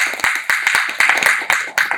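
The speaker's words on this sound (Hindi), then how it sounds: "जोरदार ताली सिंह साहब" Applause breaks out in a meeting hall at an industrial awareness programme, heard up close as a short, lively burst of rapid clapping from a small group.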